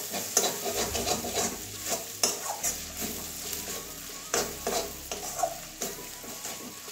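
Onions, turmeric and other spices for a jackfruit curry with katla fish head fry in a pan, with a spatula stirring and scraping in repeated strokes over a low sizzle. Close and moderately loud, with no voices.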